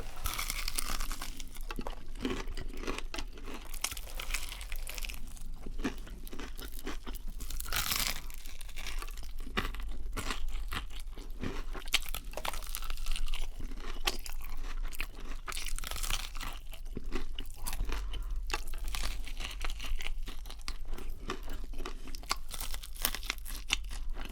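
KFC fried chicken pieces are chewed close to the microphone in a steady stream of loud, crisp crunches and crackles that lasts the whole stretch, with no talking.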